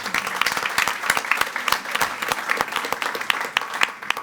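An audience at a school board meeting applauds, with brisk, close hand claps forming a steady, lively patter that runs throughout, with no talking over it.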